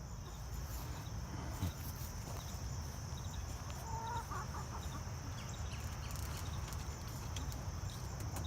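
Backyard chickens cluck softly in a coop, a faint scattering of short clucks under a steady outdoor hiss, with no voices.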